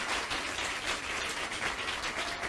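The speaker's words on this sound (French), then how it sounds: "On l'applaudit encore une dernière fois" A fairly faint, dense wash of audience applause for a performer at a Christmas Caribbean singing contest, steady and unbroken through the short stretch, with no voices over it.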